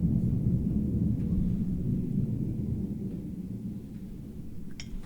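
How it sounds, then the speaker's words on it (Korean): A thunderstorm over a Manhattan apartment in New York: a low, rolling thunder rumble that fills the whole stretch and fades slowly. It comes with faint scattered crackles and no talking. "지금 갑자기 저희 집에 오자마자 폭풍이 막 몰아치거든요"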